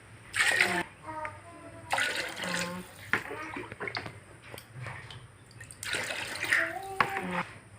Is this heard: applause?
no